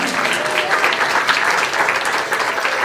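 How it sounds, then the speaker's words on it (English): Steady, dense round of applause from a room of workshop participants, a continuous loud wash of many hands clapping with no talk over it. "Round of applause for Team 1."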